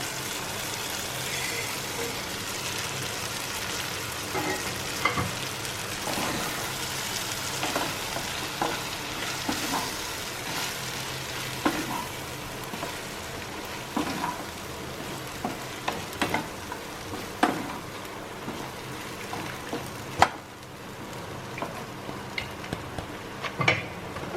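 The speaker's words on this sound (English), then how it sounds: "Now we will add this fried" Fried potatoes sizzle and crackle in a hot pan while a utensil stirs and scrapes through them, with occasional sharper knocks against the pan.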